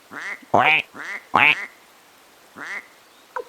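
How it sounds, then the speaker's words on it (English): Cartoonish duck quacks from the Suikoden video game, five distinct nasal calls in an uneven sequence, clear and close with short pauses between, followed by a brief faint click. "The duck sound. I love the duck sound."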